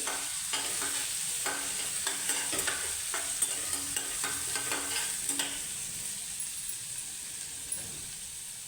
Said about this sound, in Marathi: तेल गरम झालं हे वाटलेली मिरची आणि जिरं त्याच्यामध्ये टाकून घ्यायचं बेस्ट परतवून घ्यायचं